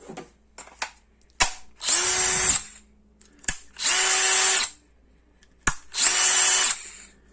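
A Craftsman brushless cordless drill (CMCD720D2) whirs in three separate bursts of about a second each, with sharp clicks between runs; close and loud, no voices.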